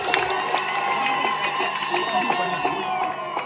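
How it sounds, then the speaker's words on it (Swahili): Clapping and cheering from a Tanzanian audience at a gathering on religion and national unity, a dense steady roar of hands and raised voices with lively whoops throughout. "Naomba sisi wa Tanzania wote tujipigie makofi kwa jambo hili kubwa"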